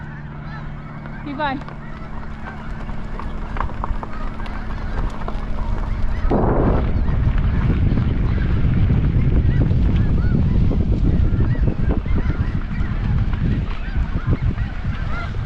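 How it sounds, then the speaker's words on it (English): Geese honk in a large flock at a bird refuge, a loud, continuous clamor of calls over wind buffeting the microphone, with people speaking briefly early on. "Wow, look at all those birds."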